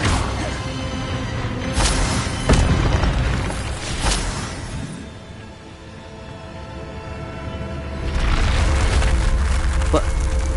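A fire spell cast in a Hogwarts wizard video game bursts out with loud whooshing, crackling roars, followed by a lull of rumbling game ambience before a second surge of fiery noise.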